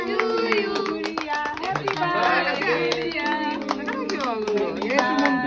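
Hands clapping at a family birthday celebration, a steady run of claps mixed with cheerful voices and singing-like tones throughout.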